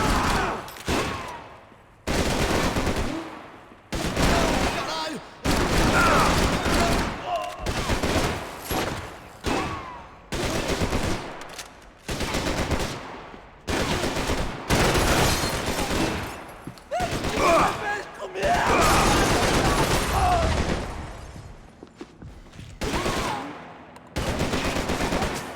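Gunfire in the video game Max Payne 3, with loud, close bursts of automatic and single shots coming in rapid volleys and short lulls between them across the whole stretch.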